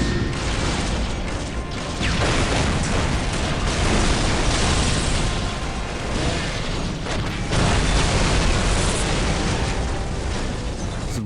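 Whirlwind artillery tanks in the Warhammer 40,000 strategy game Dawn of War pound the battlefield with a continuous, dense roar of explosions and booming impacts. The barrage stays loud and heavy throughout, with surges around a few seconds in and again later on.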